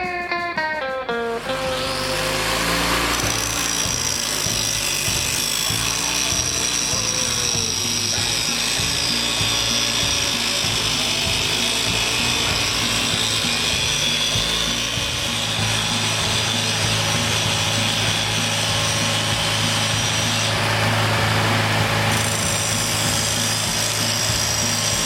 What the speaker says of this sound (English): as this is spinning, I'm going to grind it down until it fits inside that wheel